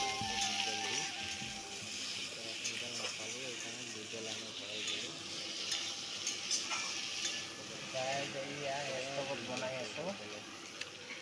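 Food frying and being stirred in a pan over a diesel-fuelled stove, giving a close, continuous sizzle with scraping stirs while voices talk over it.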